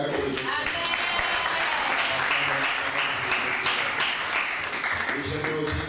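Applause from a church audience at La Maison du Roi, a sustained wash of many hands clapping at steady loudness, with voices and cheering mixed in throughout.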